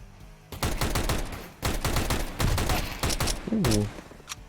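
Video game gunfire in the horror game Outlast, a rapid cluster of loud sharp shots in bursts, with a voice breaking in near the end.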